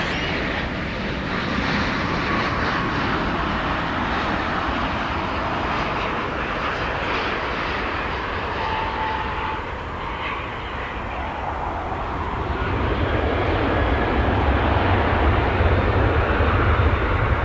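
A British Airways Boeing 787 Dreamliner from London roars at DFW Airport, a loud, steady jet engine rumble that swells slightly toward the end, with no talking.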